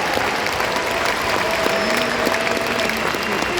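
Steady, dense applause from a large crowd at a university graduation ceremony honoring more than 6,000 graduates, even and continuous throughout with faint tonal sounds over it.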